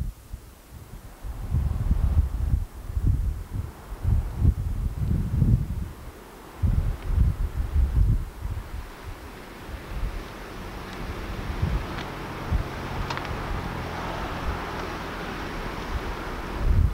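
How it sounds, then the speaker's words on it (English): Wind gusts buffet the microphone outdoors on the Oregon coast south of Lincoln City, with heavy low rumbling bursts early on that settle into a steadier rushing sound with faint background noise. "It's windy."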